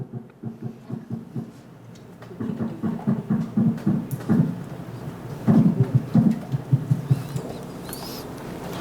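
A fish, a warm-water species that has spread north to the coast of Jeju, drums by vibrating its swim bladder, giving low, rapid, pulsing knocks in repeated bursts that grow louder over a steady underwater hiss.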